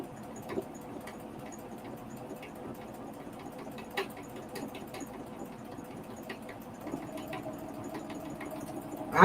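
A domestic sewing machine runs steadily while embroidering by free motion, giving a low, even mechanical whir with faint rattles and a few soft clicks. No one speaks.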